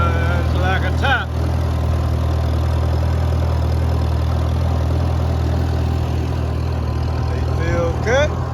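A farm tractor engine runs steadily up close at a deep, even idle throughout, with a voice speaking briefly over it at the start and again near the end.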